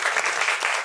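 Audience applause at a book launch and pocket show, a dense, steady burst of many hands clapping at once, loud and close with no talking over it.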